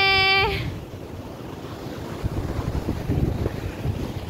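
Sea waves and wind at a beach. After a brief tone, wind buffets the microphone while waves wash and surge nearby, swelling louder toward the end.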